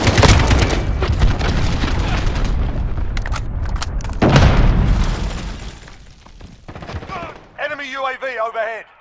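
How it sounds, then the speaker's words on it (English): A cruise missile strikes in Call of Duty Modern Warfare: loud booming blasts with crackling, splintering debris and scattered gunfire rumble for several seconds, then subside before a voice speaks over the fading din. "Enemy cruise missile incoming"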